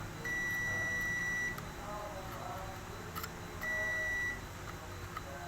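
Two steady electronic beeps from a multimeter continuity test, each lasting over a second with a pause between, sound over a faint background hum while testing a Panasonic 60-inch LED TV with a dim backlight.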